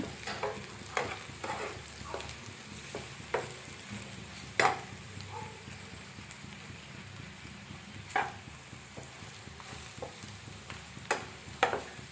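Brinjal fries in a pan with chili powder, North Karnataka style, a steady close sizzle under repeated scrapes and taps of a spoon stirring against the pan.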